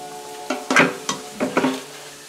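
Onions and potatoes sauté in a pan, making a soft sizzle under several sharp clinks and scrapes as a utensil stirs and knocks against the pan, with five or six distinct bursts close by.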